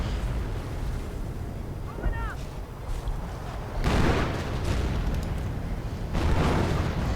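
Hummel self-propelled artillery in a WWII strategy video game firing, two loud booming blasts with rolling rumble a couple of seconds apart over steady game ambience and a brief whistle.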